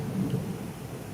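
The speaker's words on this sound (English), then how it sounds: "Oh, there's the thunder." Distant thunder with a low rolling rumble, brief and faint, set against a soft hiss of background noise, with no one talking.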